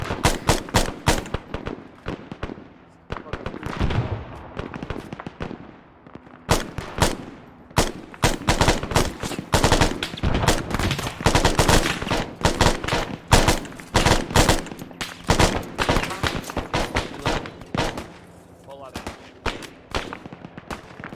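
Gunfire during combat training on standard operating procedures: dense bursts of rapid shots crackle close and loud, some in quick automatic strings, with brief pauses, and faint voices between volleys.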